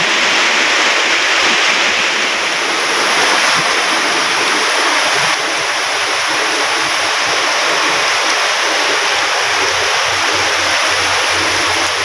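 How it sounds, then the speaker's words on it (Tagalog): Steady heavy rain with running water, collected in buckets, fills the clip as a dense, even rush at constant loudness with no voices. "liligo na lang tayo sa ulan"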